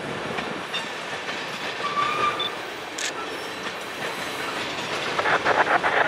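Norfolk Southern freight train hauling brand-new tank cars rolls steadily past, with continuous loud rumble and rail noise, faint wheel squeal and rhythmic clickety-clack building toward the end.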